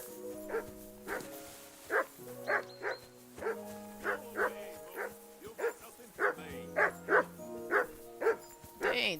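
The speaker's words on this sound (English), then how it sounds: "Dang, this dog sound like our dog" A dog barks repeatedly in a video game, a dozen or so short yapping woofs in an uneven rhythm over soft musical tones.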